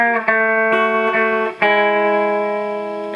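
A distorted electric guitar strums a chord shape several times, each strum ringing into the next, then holds the final chord as it slowly decays.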